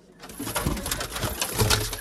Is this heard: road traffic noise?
no